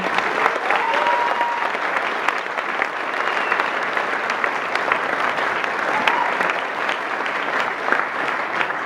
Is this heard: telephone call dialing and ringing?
no